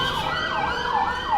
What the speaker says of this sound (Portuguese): Esperar passar aqui o corpo de bombeiros.